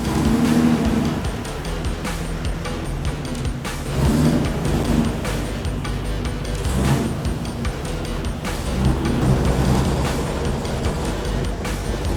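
A Jeep CJ7 Renegade engine runs steadily and noisily up close, its rumble swelling and easing in waves with no voices.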